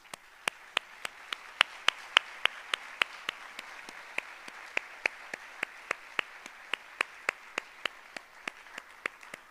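Sharp, evenly spaced hand claps ring out one after another at a cultural festival event, distinct single claps rather than a full roar, at a steady rhythm for nearly ten seconds.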